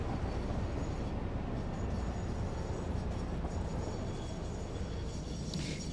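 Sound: train riding in the video game Satisfactory

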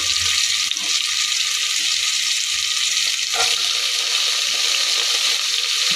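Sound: vegetables being added to the pan for pulao

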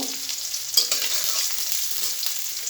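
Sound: chopped onions frying in hot oil with cumin

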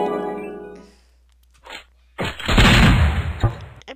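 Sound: shotgun firing in the video game Raze 2

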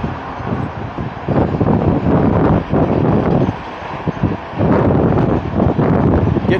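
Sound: gusty wind on the causeway

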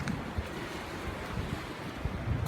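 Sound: ocean waves at Yanui Beach, Andaman Sea

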